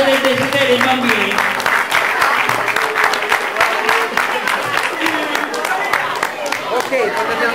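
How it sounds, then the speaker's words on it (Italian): A crowd at a Befana children's event claps loudly for a children's wishing tree Christmas decoration, dense continuous applause with voices murmuring and calling underneath throughout. "Un applauso per l'albero dei desideri."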